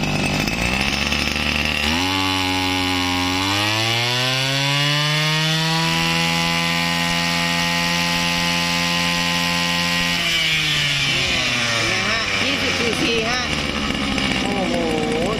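A small two-stroke Tanaka CB20HT brush cutter engine revs up, holds a steady, buzzing high-pitched whine for several seconds, then winds back down toward idle.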